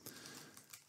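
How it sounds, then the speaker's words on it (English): A few quick keystrokes tapped out on a computer keyboard as a command is entered, soft and close with brief irregular clicks and no talking. "So I type ros run"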